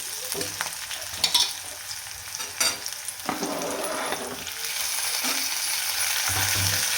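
Onion and tomato fry in a pan for a spicy soybean masala dish, oil crackling continuously while a spoon scrapes and stirs in occasional bursts, close and fairly loud.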